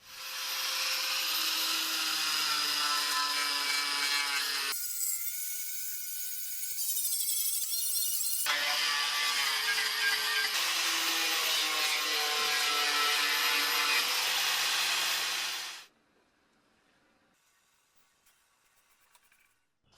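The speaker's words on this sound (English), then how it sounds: "I'm going to use these strip discs to find out just how far the rust goes and where I should make my cuts." An angle grinder with strip discs scours rust from the body of a 36-year-old BMW E30 Touring near the jacking point. A loud, continuous abrasive whine thins briefly midway, resumes at full strength, then cuts off and leaves near-silence.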